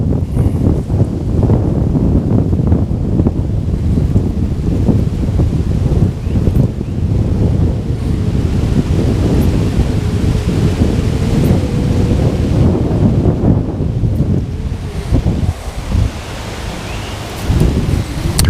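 Strong wind gusts roar steadily across an open outdoor fishing spot, a loud, continuous buffeting rush against the microphone with no voices.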